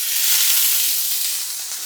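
Onion and green chili hit hot oil in a pan, giving a brief, loud, even hiss of sizzling that fades slightly toward the end, with no voices.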